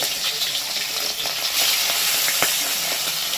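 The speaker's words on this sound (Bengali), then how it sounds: "এবার মাছগুলোকে এক এক করে টিককে ধরে ধরে ছেড়ে দেবো" Small parshe fish dropped into hot oil one by one, a loud steady hissing sizzle with light crackles and a brief pop, close and continuous without talk.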